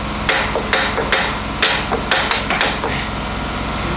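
Sharp metallic smacks from a ball peen hammer striking a part while cutting apart a Mack truck, about eight irregular blows over a steady engine-like hum, close and loud.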